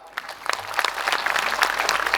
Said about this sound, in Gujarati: આયોજકો માટે એક જોરદાર તાળી